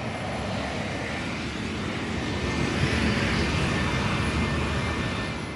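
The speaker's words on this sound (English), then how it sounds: "That's the sound of Seb's private jet flying over" A private jet flying overhead at an IndyCar test track in Phoenix, a broad steady roar that swells slightly midway, continuous and fairly loud, with no talk.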